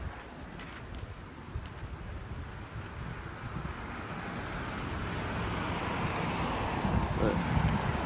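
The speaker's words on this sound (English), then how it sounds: "It's a little bit windy" Wind blowing outdoors against the microphone gives a steady rushing buffet, gradually growing louder, with faint rustling underneath.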